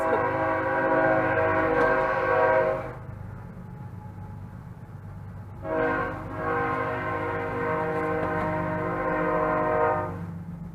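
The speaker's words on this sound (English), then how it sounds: "I love the trains." A passing train sounds its horn in two long blasts separated by a few seconds of rumbling, loud and fairly close, with the rolling of the rail cars underneath.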